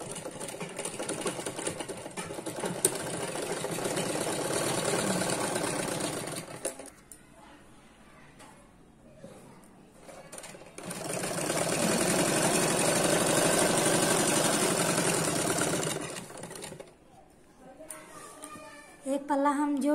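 A sewing machine stitching a petticoat runs in two long continuous bursts of steady whirring, stopping in between for a pause with quiet handling sounds and a brief voice near the end.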